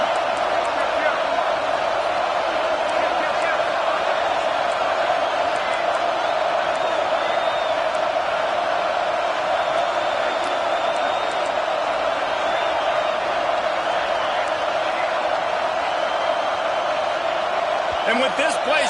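A stadium crowd at a football game roars in a loud, steady, dense wash, with a play-by-play voice talking over it throughout.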